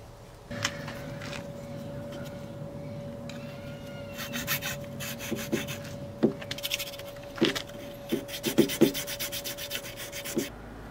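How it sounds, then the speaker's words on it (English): Hand file rasping a plug lock hole wider on a BMW i3 charging port, a steady scraping rub with sharper strokes clustering toward the end over a constant electrical hum. "So literally, take a file, make that hole bigger."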